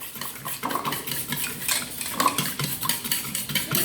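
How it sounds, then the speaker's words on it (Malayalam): A spoon or whisk scrapes and clinks against a bowl while custard mixture is stirred, a close, rhythmic run of scraping and tapping with no speech. "കട്ടകളൊന്നും ഇല്ലാതെ നല്ല വൃത്തിക്ക് തന്നെ അത് മിക്സ് ചെയ്തെടുക്കണം."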